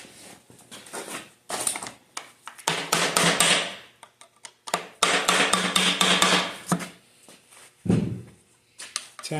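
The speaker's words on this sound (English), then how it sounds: "Tap it so it'll break it loose" A hammer or tool taps metal in bursts while a part is knocked loose during the rebuild of a 727 automatic transmission, with clustered close strikes and a short pause between groups.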